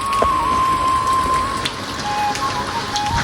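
Village rain falls steadily in a dense, even patter on surfaces nearby, with a thin tonal hum drifting through the background.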